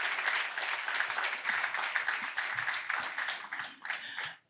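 Sustained audience applause at a film screening and talk, steady dense clapping from a room full of people that tapers off at the end.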